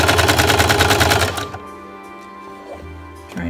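A sewing machine stitches a baby sleeper in a brief, loud, rapid run that stops after about a second and a half, leaving a quiet hum and a few small clicks.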